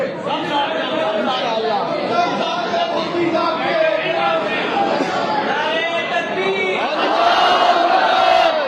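A large crowd at a political rally chants a loud, sustained collective response to the Naara-e-Takbeer slogan, a dense roar of many voices with a rising swell near the end.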